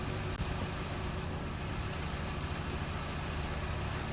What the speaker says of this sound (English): So this engine's running fine.